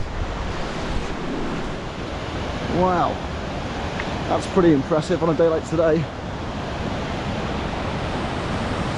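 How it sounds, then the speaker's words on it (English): Janet's Foss waterfall in a shady, mossy wooded gorge in the Yorkshire Dales, a big curtain of water with rapids leading up to it, roaring steadily throughout with someone speaking briefly over it. "It's a big curtain of water."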